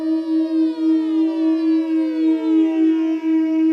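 A modular synth oscillator in a beginner ambient rig drones loud and close, a steady tone with a slowly sweeping filter giving a wavering, spacey siren-like quality.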